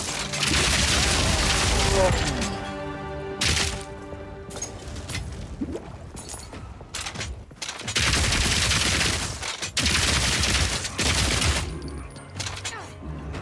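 Gunfire in the Path of Exile 2 action game, with bursts of rapid shots and booms in heavy clusters separated by brief lulls, loud and close with game music and effects layered beneath.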